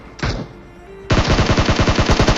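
Gunfire in the PUBG video game: one loud shot, then a rapid automatic burst of about a dozen evenly spaced rounds, close and loud.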